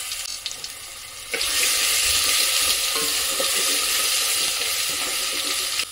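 Ginger-garlic paste sizzles in a hot frying pan, a loud and steady hiss that jumps up sharply after a quieter start and holds at full strength, with no voices.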